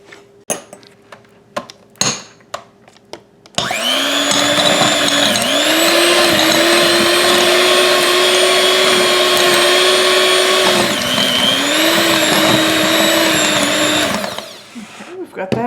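Electric mixer beating butter for strawberry lemon blondies, a loud, steady motor whine running about ten seconds with brief dips in pitch, preceded by a few clunks and handling knocks.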